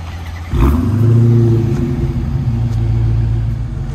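A Dodge Hellcat V8 engine starting up and idling with a catless exhaust, a sudden loud deep rumble that settles into a steady throbbing idle, close by.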